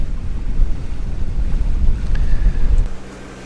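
A catamaran motoring into a 5–6 knot headwind on the way from Beaufort, North Carolina, heard as steady wind rush and low engine and water rumble, loud and continuous, easing slightly near the end.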